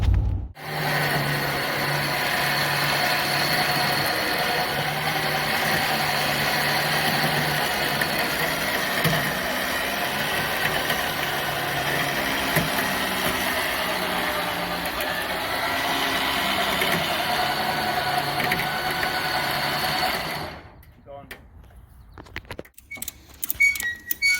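A Chevrolet car engine runs steadily and loudly at close range for about twenty seconds, then cuts out, leaving faint scattered knocks.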